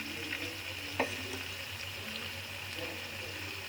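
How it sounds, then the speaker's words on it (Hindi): Desi ghee sizzles in a cooking pot of fried turnips, carrots and tomatoes, a faint, steady crackling hiss with a single small clink, no speech. "देसी घी डाल देंगे।"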